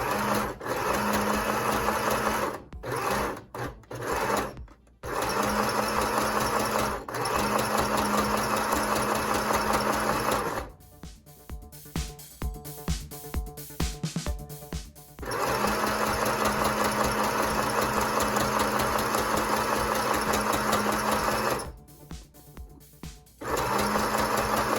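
A sewing machine stitching a fabric face mask near its elastic, running loud and steady in long forward and back-stitch bursts with short pauses and stop-start gaps between runs.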